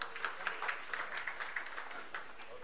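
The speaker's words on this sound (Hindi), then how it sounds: "इनके सम्मान में नहीं, इनके आगे बढ़ने में तालियां लगातार बजती रहनी चाहिए।" An audience claps for honoured UP Board top-ranking students at a tablet award ceremony: a faint, steady patter of hands with soft, rhythmic peaks that runs the whole time, with no voices over it.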